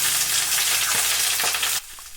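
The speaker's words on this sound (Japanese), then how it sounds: "フライパンに大さじ1の油を熱してざく切りにしたほうれん草を1束分炒めます。" Chopped spinach stir-fried in a frying pan of hot oil gives a loud, steady sizzle with some stirring scrapes. The sizzle drops sharply near the end.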